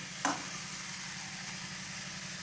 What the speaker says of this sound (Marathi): असं हलवत राहायचं हे एकत्र झालं पाहिजे